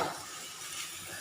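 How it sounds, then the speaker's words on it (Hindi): Chicken and capsicum fry together in a pan, a soft, steady sizzle up close with a faint utensil scrape at the start and no voices. "इसको भी 20 से 30 सेकंड के लिए मैं चिकन के साथ ही फ्राई कर लूँगी।"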